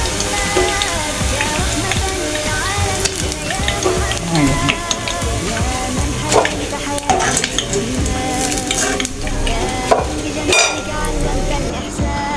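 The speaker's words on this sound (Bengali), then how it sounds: "এরকম করে আমি ভেজে নিচ্ছি। সবগুলো আমি এভাবে ভেজে নেব।" Cauliflower pakoras deep frying in hot oil give a steady, dense sizzle throughout, with occasional clinks of a utensil against the pan and some background voices.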